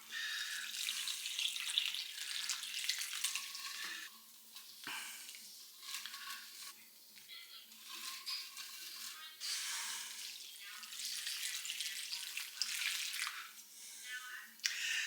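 Water pouring from a container onto fertilized new soil in an indoor potted plant, a steady trickling splash with brief pauses, fairly close and soft, alone without talk.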